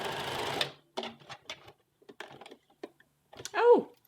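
A sewing machine stitches the side seam of a western blouse in short bursts of rapid needle clatter, separated by brief pauses and small handling clicks, close and clear.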